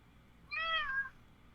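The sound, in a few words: cat meowing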